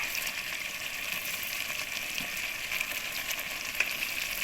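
Rice tipped into a cooked mixture in a pan for kadamba sadam, a soft, steady frying hiss with faint scraping and a couple of small clinks, fairly quiet and without speech.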